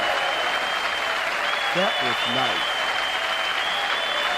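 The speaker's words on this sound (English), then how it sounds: "I need everybody right now to give Lulu a round of applause." A live audience gives a steady, continuous round of applause, a dense wash of clapping that stays even throughout, with a brief spoken word partway through.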